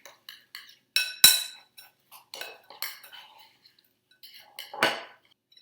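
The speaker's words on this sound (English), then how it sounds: "So get back to mixing, incorporating all of the butter into the graham cracker." Butter being stirred into graham cracker crumbs in a bowl for a blueberry cheesecake crust, giving scattered clinks and scrapes of a utensil against the bowl in irregular bursts, close and fairly quiet, with no voices.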